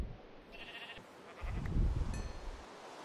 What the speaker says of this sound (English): since there's an extra sheep, I'm just gonna go ahead and kill it